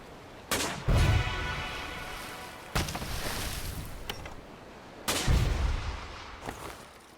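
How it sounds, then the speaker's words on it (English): Cannon shots fired at a floating box in the sailing video game Sail Forth: three loud booming blasts, each a sharp crack with a rumbling tail, spaced a couple of seconds apart. "Let me shoot the box."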